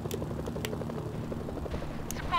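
A Hind gunship helicopter in a video game beats steadily with a rhythmic rotor chop, low and continuous, joined by a couple of brief sharp clicks.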